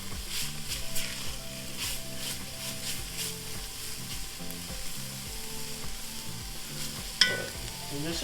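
Minced garlic sizzles softly in a pot while a spoon stirs it, giving a steady low frying crackle broken by rhythmic scraping strokes and one sharp knock near the end.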